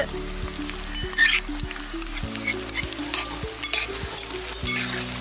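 Small shallots and sliced onions sizzle steadily in a hot pan for a prawn roast, with repeated scraping stir strokes and light utensil clinks. No one talks.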